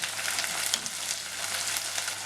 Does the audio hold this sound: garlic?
yes